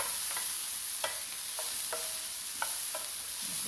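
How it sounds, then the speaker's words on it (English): Mushrooms sizzle in a small skillet, a steady bright frying hiss broken by several soft scraping clicks of stirring, close and without any voices. "I got some mushrooms that I'm going to add in with this. And these little skillets really do a good job cooking."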